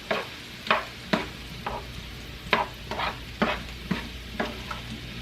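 Mushrooms frying in a pan are stirred in about a dozen regular scraping strokes over a soft continuous sizzle, close and clear, with no talking.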